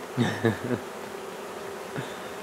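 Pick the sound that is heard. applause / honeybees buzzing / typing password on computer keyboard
honeybees buzzing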